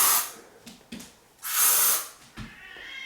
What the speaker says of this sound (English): take a little bit of hairspray, which let me go grab my hairspray